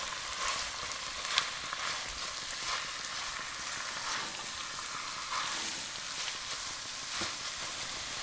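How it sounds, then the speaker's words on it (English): Small red onions, finely chopped, fry with salted pork and chorizo in a pan, giving a dense, continuous sizzling crackle with occasional stirring scrapes, close and fairly loud with no talking. "into this now goes in the onions and allow them to soften as well"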